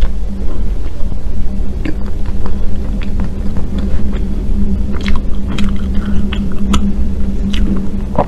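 Lotus seed paste or red bean paste mooncake with salted egg yolk, chewed up close over a steady low hum, with soft sticky squishes and small crunchy bites scattered through, no talking.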